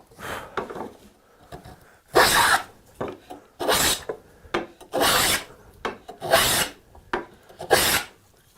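Heavy shavings peel off wood under a hand plane, five loud rasping strokes in a steady rhythm with short lighter scrapes between them, close and unaccompanied by talk.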